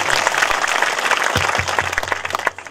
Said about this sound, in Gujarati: વણજારા સાહેબને પણ તાળીથી વધાવો